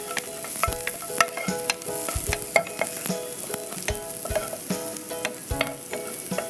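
Chopped onions frying in a pan over a low flame, a continuous close sizzle broken by scattered pops and the clink of a spoon stirring, with no voices.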